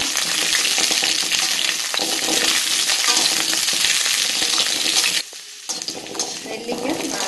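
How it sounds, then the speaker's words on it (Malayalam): Indian gooseberries sauté in sesame oil with a loud, steady sizzle and frequent scraping stirs of a spoon against the pan; a brief lull near the end, then the frying resumes. No one talks. "വൃത്തിയാക്കി വെച്ചിരിക്കുന്ന നെല്ലിക്ക അതിനകത്തിട്ട് നന്നായിട്ട് വഴറ്റിയെടുക്കാം."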